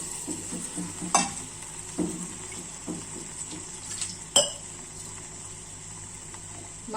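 A ground masala paste goes into a hot pan for Malvani black pea curry, giving a soft sizzle with several sharp scrapes and clinks of stirring against the pan.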